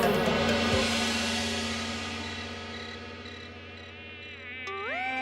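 Mosquitoes in an animated comedy buzz in a high, thin, wavering whine that fades slightly, then rises again as the pitch sweeps upward near the end.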